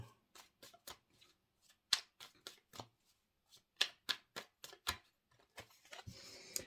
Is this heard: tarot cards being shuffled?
yes